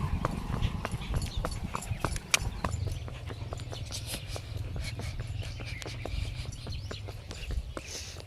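Steady clip-clop of a mare's hooves on a road in an even walking rhythm, with faint birds chirping in the background.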